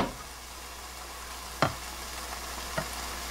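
Sliced onions stir-frying in a pan in their own moisture with no added water, giving a soft, steady sizzle close by, broken by a couple of brief knocks as they are turned; no one speaks.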